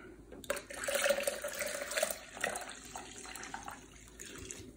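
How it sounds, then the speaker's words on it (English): Water pours steadily into a pitcher of strawberry lemonade in a home kitchen, a close, continuous splashing stream that swells and then eases off, with no talk over it. "And then we add some water."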